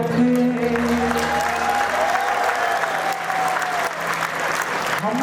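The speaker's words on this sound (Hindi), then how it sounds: "हाथ उठा दिए तालियों के साथ।" An audience at a poetry recital on a martyrs' day event in Gohana applauds in sustained, loud, dense clapping, with a steady tone and faint voices under it.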